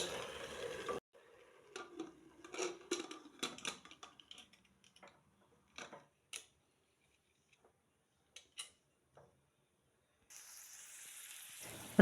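Onions frying in oil on a stovetop, heard as bursts of close sizzling hiss at the start and end, with scattered clicks and rattles and quiet gaps in between.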